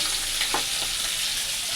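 Potatoes with green chili frying in hot oil in a home kitchen, a steady close sizzle throughout with a couple of brief stirring knocks.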